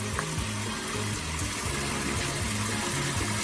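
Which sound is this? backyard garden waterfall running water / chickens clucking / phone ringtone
backyard garden waterfall running water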